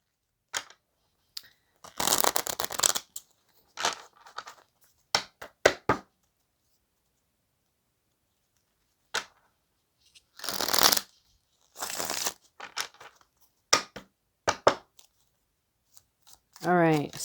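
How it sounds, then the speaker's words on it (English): Cards are shuffled in several quick riffling bursts separated by silent pauses, close and crisp, with a brief voice at the very end. "so that you guys can see that the cards are shuffled"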